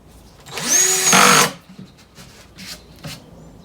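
A power drill drives a screw into scrap lumber for a telescope shipping box, one close whirring burst of about a second, followed by faint knocks and handling.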